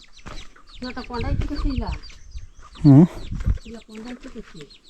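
A hen in a mud house in Kokan clucks amid people talking, with a loud, close squawking cluck standing out near the end after a stretch of speech and softer background sounds.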